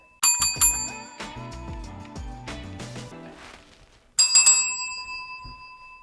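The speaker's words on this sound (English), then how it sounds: "I'll let you ring the bell for our final transition." A bell rung to mark a segment transition on a sports talk show, with bright repeated dings in quick succession, then a pause and a second ringing burst that decays slowly.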